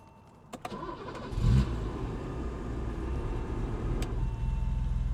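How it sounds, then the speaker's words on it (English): A BMW 635 CSi engine starting up close by: a few clicks, a brief cranking whir, then a sharp catch and a steady idle that carries on loud and even. "If I start the car up, I can show you what they do."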